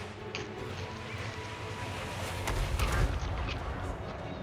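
Dwarf cannons firing during a siege in a video game battle, a low, rumbling artillery barrage with a few sharp reports and a swell of heavy booms midway, heard at a distance under a continuous battlefield din.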